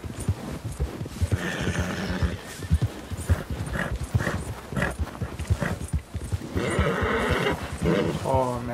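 A horse in the video game Red Dead Redemption 2 whinnies near the end of the clip, after steady clip-clop hoofbeats and game sounds, with someone talking over much of it.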